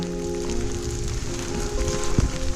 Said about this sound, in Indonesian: Masih hujan.